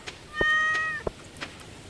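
A single cat meows in the farming video game Stardew Valley, one clear drawn-out mew rising and holding for about half a second, followed by a couple of faint soft clicks.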